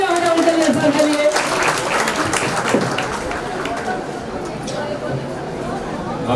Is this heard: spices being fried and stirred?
no